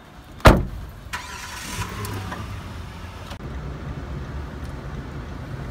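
A car door slams loudly near the start, then a car engine starts and runs at a low, steady rumble in the background with a few faint clicks.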